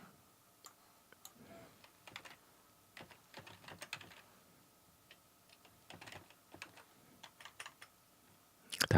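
Fingers tap out keystrokes on a computer keyboard in soft, irregular bursts of clicks, followed by a louder knock at the end of the quiet run.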